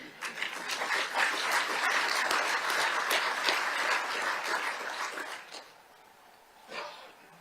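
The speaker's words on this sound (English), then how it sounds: "It is not upon you to give yourself a round of applause, but today I want you to do that." Heads of mission at a conference applaud themselves, a room of clapping hands rising quickly, holding for about five seconds, then stopping abruptly, followed by near quiet and one brief faint noise.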